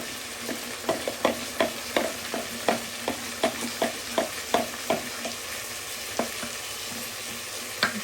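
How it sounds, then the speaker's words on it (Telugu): Dal cooking in a hot pan with tamarind juice added sizzles steadily while a spoon stirs it, giving a string of quick metallic taps and scrapes against the pan over the low frying hiss. "దీంట్లో చింతపండు రసం వేస్తున్నాం ఆల్రెడీ మిక్స్ చేసి పెట్టాను"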